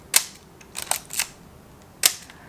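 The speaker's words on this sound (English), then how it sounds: "They're a little bit snappy because of the titanium shutter curtains in them" Nikon SP rangefinder camera with titanium shutter curtains firing: four crisp, snappy clicks spaced unevenly over a couple of seconds, close and clear against near silence.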